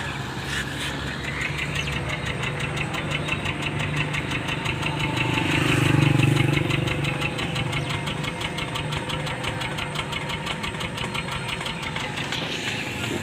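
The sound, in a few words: Suzuki Wagon R engine misfiring at idle, heard from exhaust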